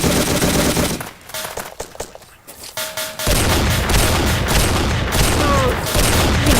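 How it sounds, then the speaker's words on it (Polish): Gunfire in the AOS mod video game, dense rapid bursts of shots that drop out briefly mid-way and then return as a continuous loud fusillade. "ale się teraz strzelają"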